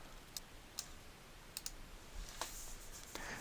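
A computer mouse clicks as a text file is saved, giving a handful of faint, sharp clicks at uneven intervals, some in quick pairs, in an otherwise quiet room.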